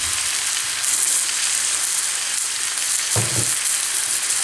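Lamb cooking over medium heat in a tajine, a dense, steady hiss of sizzling fat filling the whole stretch, with a couple of low thumps near the end and no talking.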